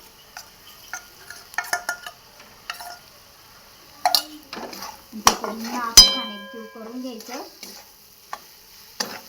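A utensil stirs and scrapes ground soaked chana dal paste in a pan with a light sizzle and a few sharp clinks, and a voice speaks briefly between strokes.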